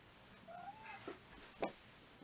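A cat gives one short, rising meow close by but faint, followed by a couple of soft knocks in a quiet room.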